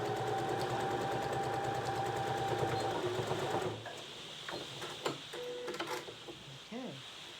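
A sewing machine stitches fabric in a rapid, steady mechanical whir for several seconds, then stops, followed by scattered handling clicks and a brief voice.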